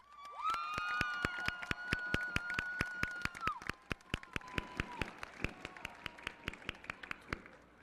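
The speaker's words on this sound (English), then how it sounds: "So if you'll please give your friends and families a round of applause." Sparse, sharp hand claps from a few people at a high school graduation ceremony, falling in a fairly regular rhythm over a sustained tone and murmur.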